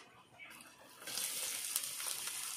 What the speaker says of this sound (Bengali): এবার এর মধ্যে জিরে ফোড়ন দিয়ে দিলাম।